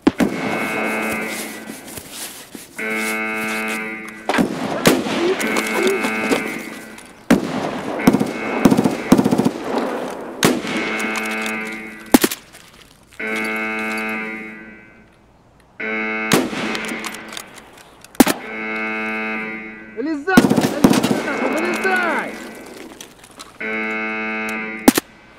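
Video game gunfire in Escape From Tarkov during a squad fight, with repeated bursts of automatic fire and single shots spread across the clip, loud and close, in short clustered volleys separated by brief pauses.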